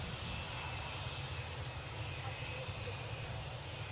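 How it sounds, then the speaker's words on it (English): Jet engines of a British Airways Airbus A320 taxiing toward the runway at Newcastle airport, a steady loud broadband roar with a high whine, continuous and unbroken, heard from nearby. "That increase in engine noise, which you might be picking up at home, signifies that our British Airways Airbus A320 is now creeping its way towards the active runway."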